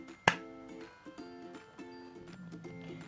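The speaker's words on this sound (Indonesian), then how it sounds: "tepuk tangan" A single loud hand clap beside a newborn baby during a physical examination, sharp and close, followed by steady faint tonal background sounds.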